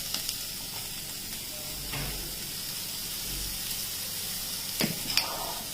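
Vegetables for a frankie filling sauté in a pan with a soft, even hiss and sizzle, with two brief stirring scrapes partway through and near the end.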